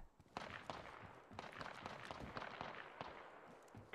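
Quiet, sharp gunshots from Apex Legends gameplay sound in an irregular series, with several single cracks and short bursts over a faint background.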